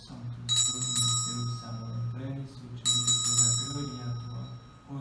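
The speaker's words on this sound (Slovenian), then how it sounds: "se trikrat pozvoni" A Sanctus bell rung three times at the Sanctus of a traditional Latin Mass, bright metallic chimes in two clustered bursts ringing over a steady low organ-like drone in a church.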